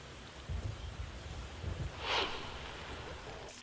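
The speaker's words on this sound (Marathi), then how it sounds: "रायगड जिल्ह्यात सर्वदूर वादळी वाऱ्यासह पाऊस सुरू आहे." Heavy rain driven by stormy wind across Raigad district, Maharashtra, during flooding: a steady, faint broadband wash of downpour with a few low rumbling thumps and one brief louder gust-like burst midway.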